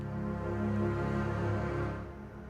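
Sustained low sampled string chords play steadily, then cut off suddenly near the end, leaving a faint tail.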